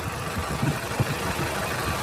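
A Kia Carens CRDi diesel engine, 113 horsepower, idles steadily with a low, even rumble and faint vibration, no voices over it.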